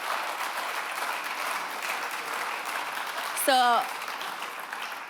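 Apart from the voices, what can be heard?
audience applause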